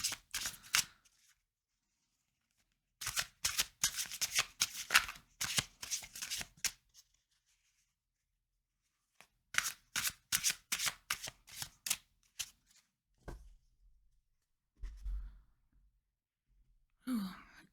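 Tarot cards being shuffled by hand in quick riffling bursts, several close rapid flurries separated by pauses, with soft breaths between.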